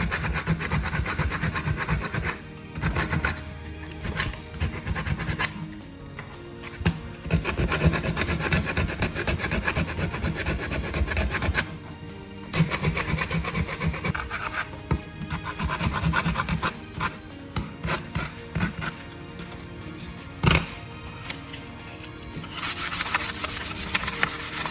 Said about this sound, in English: use sandpaper to smooth the edges, removing any sharp burrs and making the surface safe to handle